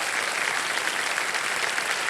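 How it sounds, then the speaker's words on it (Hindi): Loud, dense studio-audience applause on the quiz show Kaun Banega Crorepati, a steady wall of clapping sustained evenly throughout with no voices. "जोरदार तालियां बज जाए।"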